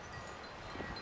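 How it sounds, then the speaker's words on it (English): Strong wind buffets the microphone outdoors near a tiny cabin, a brief, soft rushing with low gusty rumble. "It's very windy."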